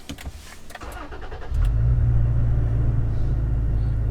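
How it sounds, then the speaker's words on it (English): Toyota Tacoma with an aftermarket exhaust heard from inside the cab as it starts: brief cranking, then the engine catches and settles into a steady, deep, loud rumble. "So this here is going to be the initial startup."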